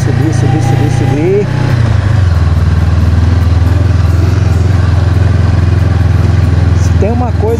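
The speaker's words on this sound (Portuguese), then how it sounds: "Se tem uma coisa que nós fizemos com essa moto nessas férias é botar na estrada de chão." A Honda CB500X motorcycle rides along a dirt road, its engine droning loud and steady with rumbling wind noise, while voices briefly break through near the start and end.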